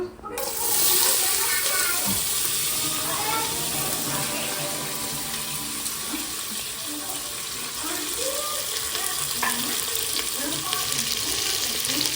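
Onions go into frying masala in a pan for a mutton curry, giving a loud, continuous close sizzle with watery bubbling and occasional stirring scrapes.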